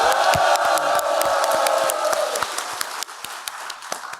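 A crowd at a rural basic-income alliance launch ceremony cheers with a loud, sustained roar over scattered sharp claps, then fades to sparse individual handclaps.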